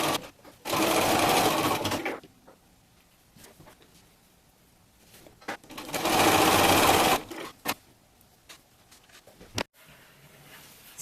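Sewing machine stitching a seam on glitter fabric for a flamingo costume, heard in two loud, steady bursts of rapid whirring separated by quiet pauses with small handling clicks.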